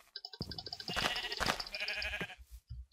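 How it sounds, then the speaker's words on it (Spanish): Sheep bleating in the Minecraft video game, a short bleat of about two seconds, close and clear with no talk over it. "Oveja."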